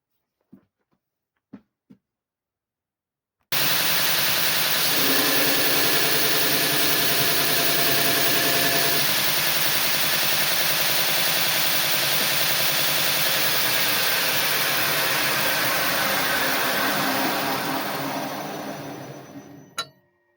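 An angle grinder fitted with a homemade spark guard starts after a few faint clicks, then runs continuously at a loud, steady whine with engine-like vibration, the pitch dipping briefly under load before it winds down near the end.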